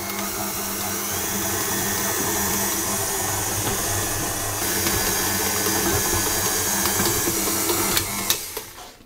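A stand mixer kneads English muffin dough at medium speed, giving a steady, fairly loud motor whir with a faint rhythmic churn that runs throughout, plus a few clacks near the end.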